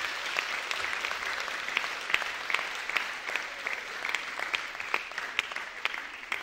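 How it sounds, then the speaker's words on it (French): An audience at an end-of-year school orchestra concert applauding first-grade pupils, a sustained steady clapping from a room full of people with a few louder individual claps standing out. "applaudit bien fort les CP qui sont devant vous"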